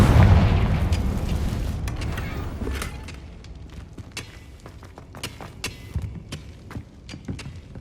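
A Confringo spell explosion in Hogwarts Legacy, opening with a loud booming blast whose rumble decays into scattered crackles and sharp debris clicks.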